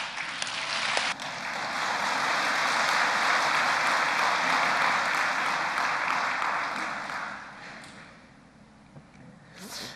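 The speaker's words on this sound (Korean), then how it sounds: "잘했다, 박수 해라" A church congregation at a worship service breaks into sustained applause that rises within the first second, holds dense and steady for most of the stretch, then thins and fades toward the end.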